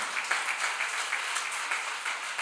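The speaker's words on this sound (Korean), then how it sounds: "우리 주님께 영광의 박수 올려드리시면" Church congregation applauding after a sermon testimony, a steady wash of clapping at moderate level with no speech over it.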